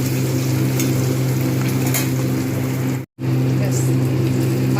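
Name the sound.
rohu fish frying in oil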